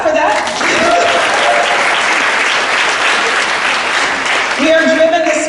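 An audience at a Bernie Sanders rally claps loudly and steadily in a sustained round of applause, with brief tonal voices near the start and end.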